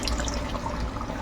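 Spice-washing water poured from a container into chicken cooking in a pan, a steady splashing liquid pour running close and continuous for about a second.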